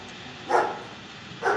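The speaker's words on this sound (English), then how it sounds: "These are the canines." A Minecraft dog makes two short yips or barks about a second apart, clear and close, with nothing else in the foreground.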